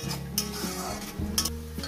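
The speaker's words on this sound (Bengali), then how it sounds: "পেঁয়াজটাকে আমি কি সুন্দর করে ভেজে নিচ্ছি" Onions sizzle in hot oil in a pan while being browned for a Bengali chicken curry, with a spatula scraping and stirring in steady strokes, close and clear.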